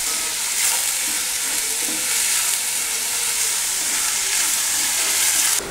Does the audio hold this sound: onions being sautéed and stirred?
yes